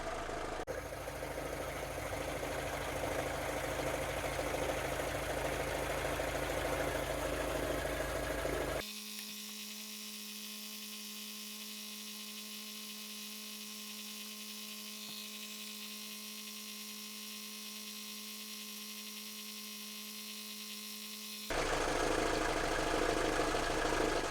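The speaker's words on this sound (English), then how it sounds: "I think I'll leave the engine running for a bit" An engine idles with a steady mechanical hum; midway the low rumble drops away, leaving a thinner tonal drone before the fuller sound returns.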